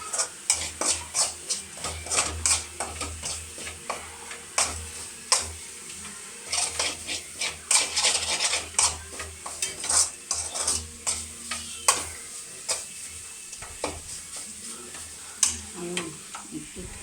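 Thoran being stirred in a pan, a close, busy run of scraping and clinking strokes with utensil on metal over a soft sizzle, steady for the whole stretch with no talking.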